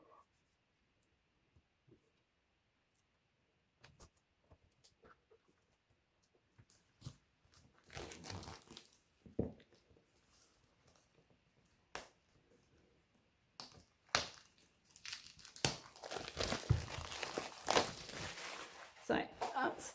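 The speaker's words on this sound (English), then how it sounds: "So that's the wrapper off of that one." A plastic wrapper is peeled and cut with scissors off a thick-paged notebook, giving bursts of crinkling and crackling that grow denser and louder toward the end, with quiet pauses between handling sounds.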